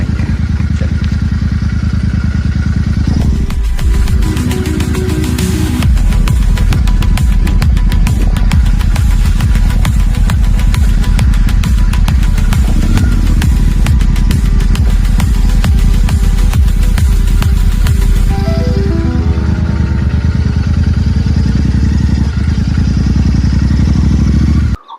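A Royal Enfield Super Meteor 650 motorcycle ridden off-road: a loud, steady engine rumble with uneven throttle swells, clatter and jolts from rough ground, close and continuous throughout.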